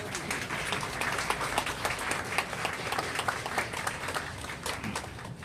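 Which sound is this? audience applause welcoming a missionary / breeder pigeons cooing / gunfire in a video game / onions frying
audience applause welcoming a missionary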